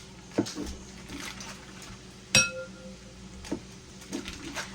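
A utensil clinks against a bowl while breaking up cream cheese, giving a few sparse taps with one sharper ring, fairly close and otherwise quiet.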